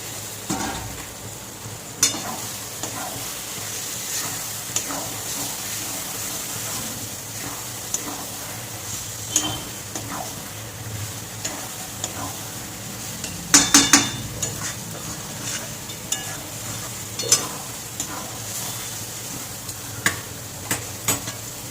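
Cut chicken fries in a pan of spiced masala, a low continuous sizzle broken by scraping stirs and occasional clinks of a utensil against the pot, with no speech.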